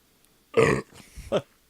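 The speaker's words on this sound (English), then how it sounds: "They burped in your face." One loud, throaty burp, followed by a couple of shorter, softer guttural sounds.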